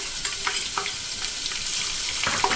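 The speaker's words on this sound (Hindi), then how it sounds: "इसी ऑयल के अंदर मैं अदरक लहसुन शामिल कर दूंगी।" Ginger and garlic frying in hot oil for nihari, a dense close crackling sizzle with a few sharp scrapes of stirring across the short stretch.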